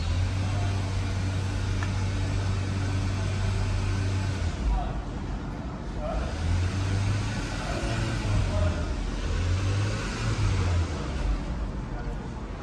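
A hybrid car switches from EV mode as the gas pedal is pressed, and a low engine hum starts up and rises and dips in a few surges, fairly quiet under a faint background hiss.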